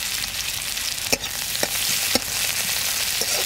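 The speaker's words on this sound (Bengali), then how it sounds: "আর একই সাথে গোটা 4 কোয়া রসুন ভেজে নেব, 2 কাঁচা লঙ্কা" Garlic cloves and green chillies frying with onion in a pan, a loud, steady close sizzle with a few brief utensil knocks and scrapes breaking through.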